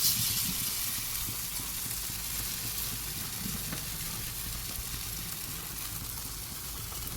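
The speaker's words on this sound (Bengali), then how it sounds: "আমি এবার বড়াটা ভাজতে শুরু করি।" Green banana kofta fritters, flattened and bound with cornflour, fry in hot oil with a steady close sizzle and hiss that holds at an even level throughout, with no talk.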